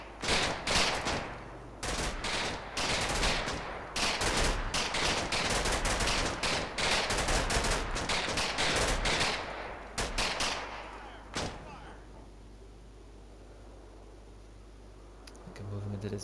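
Gunfire from the World War II game Combat Mission: Battle for Normandy, rapid machine-gun bursts and rifle shots in dense volleys, then a sudden lull with a few isolated shots; a voice speaks over it.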